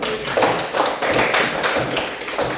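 Light audience applause, a thin patter of hand claps in an indoor room, sounding in uneven small waves.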